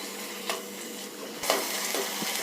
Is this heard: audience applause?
no